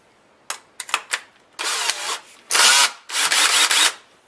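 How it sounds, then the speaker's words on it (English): A power drill fitted with a mixer paddle stirs paint in a small tub, a few short bursts followed by three longer whirring runs, close and loud with no talk. "You'll need a drill to mix this paint and a mixer."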